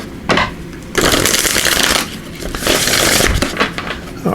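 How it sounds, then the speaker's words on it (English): Oracle cards are shuffled close up in loud, crisp riffling bursts. Each burst lasts about a second, with short breaks between them, and there is no talk. "Do a good shuffle and see what they want you to know"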